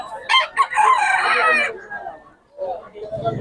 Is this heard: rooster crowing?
yes